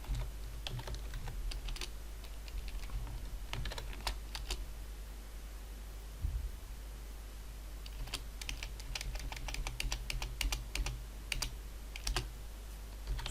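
Code is typed on a computer keyboard in quiet, uneven bursts of soft key clicks over a low steady hum, with short pauses between runs of keystrokes.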